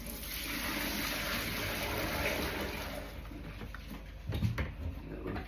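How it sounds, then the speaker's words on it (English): Steady rushing, gurgling bath water drains close by, easing off partway through, then a few knocks and clunks near the end. "let's take the water out"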